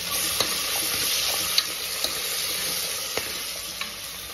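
Onion and ginger-garlic paste sizzle steadily in a hot pan, with occasional sharp clicks as a spoon stirs the mixture. The frying is close, continuous and fairly quiet, and no one speaks.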